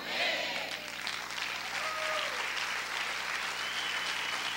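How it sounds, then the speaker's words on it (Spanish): A church congregation claps in a sustained, dense wash during a Spanish-language sermon, with faint cheers and voices mixed into the steady noise. "Si ese aplauso es para el Señor,"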